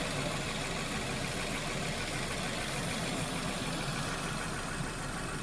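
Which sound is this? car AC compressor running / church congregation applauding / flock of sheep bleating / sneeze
car AC compressor running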